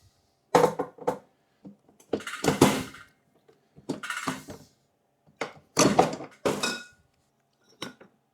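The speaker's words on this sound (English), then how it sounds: "With a bench capper, it's really easy to knock out a bunch of bottles really quickly." A bench capper crimping caps onto homebrewed beer bottles, with a series of close, sharp metallic clunks and glassy clinks in irregular bursts separated by short silences, with no talking.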